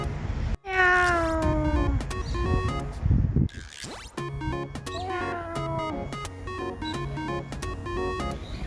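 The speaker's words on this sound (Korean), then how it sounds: "야옹이는 스트레칭하며 저를 밀어내고 있습니다" A cat woken from sleep meows repeatedly, drawn-out wavering calls close by, with small knocks and thumps between them as it stretches.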